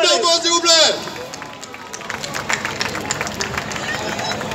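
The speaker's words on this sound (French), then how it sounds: "Alors on applaudit Laurent. On applaudit bien fort" An audience at a comedy show claps loudly and steadily for a volunteer, a dense patter of applause that fills the room; a voice speaks briefly at the start, over the first clapping.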